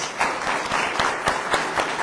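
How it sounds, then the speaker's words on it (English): Audience at a county candidate forum in Laurel, Maryland applauding the candidates, a mid-sized crowd clapping with a few sharper individual claps popping out of the steady patter. "Please give them a round of applause"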